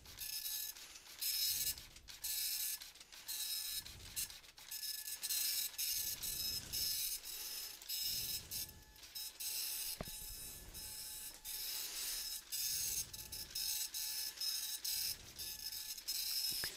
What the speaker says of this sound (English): So the printer is in fact working